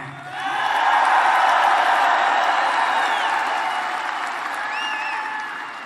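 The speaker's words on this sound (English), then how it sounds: "you clap if you like that" A rally crowd bursts into sustained clapping and cheering, a broad loud wash that swells, holds, and slowly eases, with scattered whoops rising above it.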